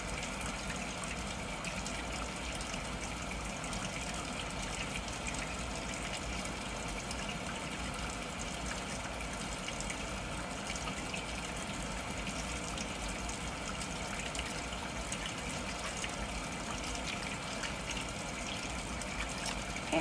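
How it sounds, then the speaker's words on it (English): Tap water runs steadily into a sink during handwashing, a continuous soft broadband rush that stays even and fairly quiet throughout with no voices over it. "when you wash, you want to make sure the water flows downward."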